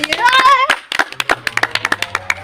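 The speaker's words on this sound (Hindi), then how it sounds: "एक बार जोर से तालियां होनी चाहिए" Audience clapping at a comedy skit about school subjects, a run of sharp separate claps following a voice, fairly close and loud.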